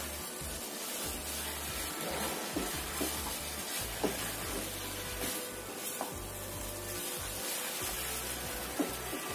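Fried tempeh and tofu are stirred in hot oil in a pan, a continuous soft sizzle broken by scraping and clinking stirs at irregular intervals, close and with no talking.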